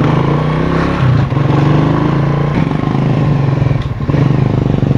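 Classic motorcycle engine idling and revving in slow evening traffic, a loud, close, continuous rumble with slight rises in pitch.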